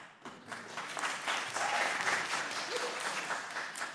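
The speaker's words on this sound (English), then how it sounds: "The audience will please refrain from applause" Applause from the audience at a congressional hearing, a sustained wash of clapping that stays fairly even and moderately loud across the whole stretch, heard from a distance in a large room.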